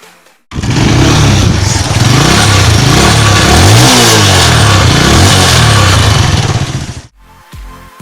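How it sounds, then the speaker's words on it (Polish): A motorcycle engine roars loudly up close, revving up and down for several seconds before cutting off abruptly. "Posłuchajcie jak ten motocykl brzmi."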